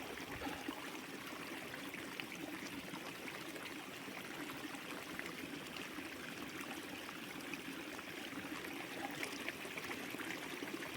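A small stream flowing from the ground on a hiking trip in Norway trickles steadily while a container is filled, a continuous soft rush of water close by, with no voices.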